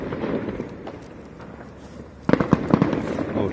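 Fireworks and firecrackers set off for New Year's Eve 2021 in Vietnam: a steady crackling rumble, then a sharp, loud string of close firecracker bangs in rapid succession.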